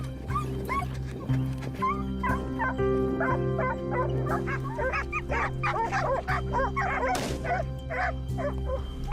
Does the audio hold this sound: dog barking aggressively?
yes